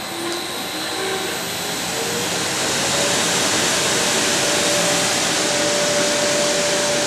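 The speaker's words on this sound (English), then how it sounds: "we'll turn the extractor on, which is now hooked up to the exhaust." A workshop exhaust extractor fan hooked to a car's exhaust on a rolling road dyno starts up and settles into a loud, steady whooshing roar with a faint tonal whine, rising slightly in level as it reaches speed.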